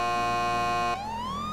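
A police car siren in the video game GTA 5 wails loud and steady, then sweeps upward into a rising tone.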